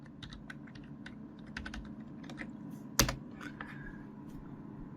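Quick bursts of keystrokes as a password is entered on a computer keyboard while setting up Arch Linux, soft, close clicks in uneven runs with one sharp louder tap midway, no voices.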